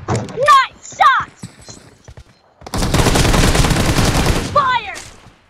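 Gunfire in the BGMI battle-royale game during team deathmatch, a dense burst of rapid automatic shots lasting about two seconds, with short, excited voices calling out before and after.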